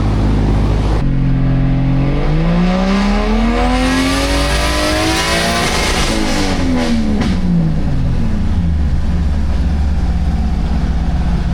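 A 1JZ-powered Toyota MkII on a dyno during a boost pull, its engine rising from idle into one long loud rev that sweeps up sharply, holds near peak, then winds back down, very close and without talk.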